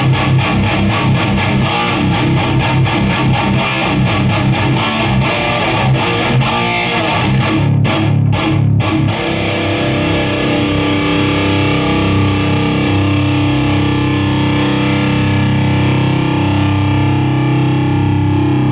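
Electric guitar played loud and distorted through a Bugera 6262 tube amplifier with the bass control turned up to 7, giving a heavy bottom end; choppy palm-muted riffing gives way to a long sustained ringing chord.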